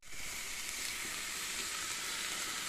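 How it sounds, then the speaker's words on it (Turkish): Continuous soft sizzling and crackling of chicken and potatoes frying in their own fat in a pan, close by and steady throughout, with no voices. "Kendi yağında da patates e, tavuğumuzu kızartacağız."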